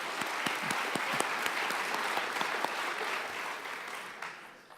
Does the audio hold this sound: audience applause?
yes